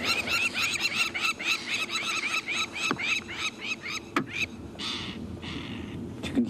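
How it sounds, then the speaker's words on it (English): Loud, repeated harsh alarm calls from birds at sunrise in the Sabi Sand bush, a dense rhythmic chorus of squawking cries close by, later thinning to scattered calls over a constant background din. "Some birds here shouting very loudly."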